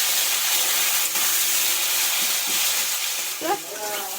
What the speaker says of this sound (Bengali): কদুলিগুলো একটু হালকা ভেজে দেবো